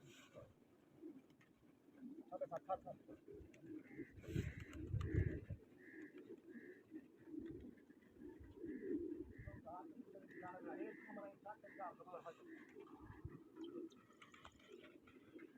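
Pigeons coo repeatedly at a pigeon-flying competition in Taunsa Sharif, their soft rounded calls pulsing in a steady rhythm at close to mid distance, with a voice talking over and between them.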